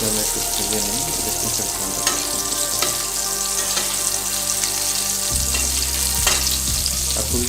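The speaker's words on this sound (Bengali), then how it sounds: "ইলিশ মাছটা ভেজে দিতে হবে" Hilsa fish frying in a pan, a steady close sizzle of hot oil with occasional stirring clicks and a low hum that shifts partway through.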